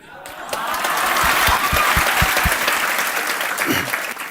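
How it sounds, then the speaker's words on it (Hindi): Sustained applause from an audience at an honour ceremony for selected BPSC civil-service aspirants, steady and loud throughout with scattered cheers and a few low thumps. "जिस तरह से आप सबके लिए तालियां बजा रहे"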